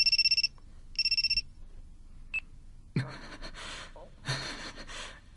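An electronic telephone ring for an incoming call sounds in two short, bright bursts about a second apart, then goes quiet before breathy gasps and rustling noises follow.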